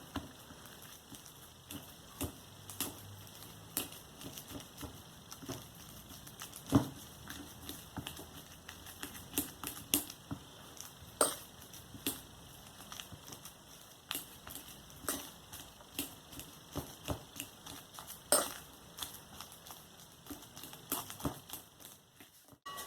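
Bananas being mashed for banana bread give a long run of soft, irregular squishing taps close by, fairly quiet and continuous throughout.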